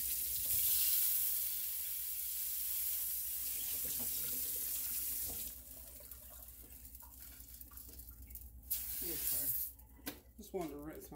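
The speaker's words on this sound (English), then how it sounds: "Just wanted to rinse my pan out a little bit" A kitchen faucet runs steadily as a frying pan used for bacon is rinsed, followed by splashing, clattering and sizzling-like handling sounds close by.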